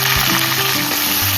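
Onions and green chillies frying in oil with cumin, mustard seeds and a little fenugreek, giving a steady close sizzle with faint stirring and no talk.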